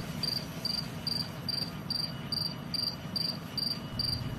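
A cricket sings outdoors at night in a steady series of regular chirp pulses, about two per second, clear and fairly close over a low background rumble.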